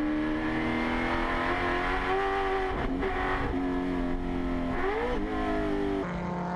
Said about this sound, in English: As we go on board with Martin Macri, let's have a listen to this Chev Camaro.